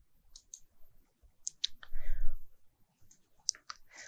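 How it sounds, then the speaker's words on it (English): Sharp, close computer mouse clicks land in small clusters while selecting objects with the shift key held, with a soft breathy murmur in the middle. "hold down the shift key and click"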